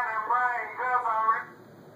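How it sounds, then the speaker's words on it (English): A mobile phone ringtone plays as a bright, tonal melodic chime for under two seconds, fairly close, then cuts off and fades. "That's my phone."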